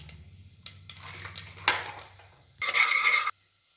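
Urad dal, dried red chillies and a piece of asafoetida splutter in hot oil, with scattered crackles followed by one loud, sustained burst of sizzling close by.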